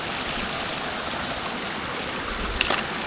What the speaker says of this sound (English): that's the waterfall from Glen Lling